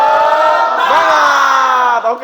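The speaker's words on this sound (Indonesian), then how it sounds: "saya mau berikan satu tepuk tangan lagi, yaitu tepuk semangat" A crowd of students in a school hall shouts a short tepuk semangat chant in unison, loud and close, with voices rising together and then breaking off.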